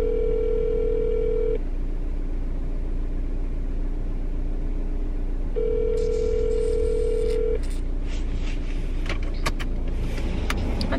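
Phone ringback tone in a car, two long steady tone bursts separated by silence, with road and engine rumble underneath and some rustling toward the end.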